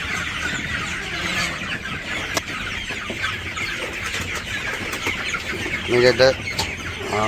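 Chickens being caught on a village poultry farm in Bangladesh cluck continuously in a busy crowd, with a louder burst of agitated squawking near the end, close by and under faint background voices.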